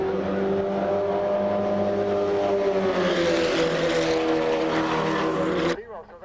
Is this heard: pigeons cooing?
no